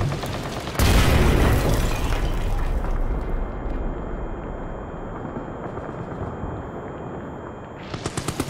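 A grenade explosion in the game Amnesia: The Bunker: a sudden loud, close boom followed by a long rumbling, debris-filled roar that gradually fades, with a few sharp knocks at the end.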